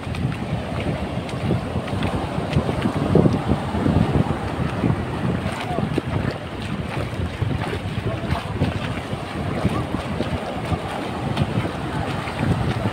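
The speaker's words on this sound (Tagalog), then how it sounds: "Malalaki yung mga alon" Strong wind buffets the microphone over the rush of large waves at sea near Silago, a constant roaring wash with no voices.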